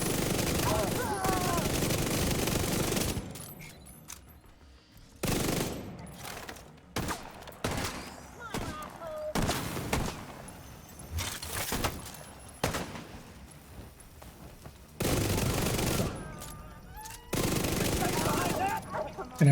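Heavy gunfire in a video game, coming in loud dense bursts that stop and start repeatedly, with a voice talking over some of the quieter stretches.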